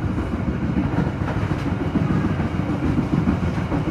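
An economy passenger train rolls straight through Padalarang station, heard from on board as a steady, loud, close rumble with rhythmic rail clatter throughout.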